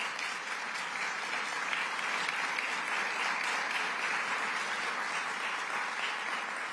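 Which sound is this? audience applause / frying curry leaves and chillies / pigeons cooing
audience applause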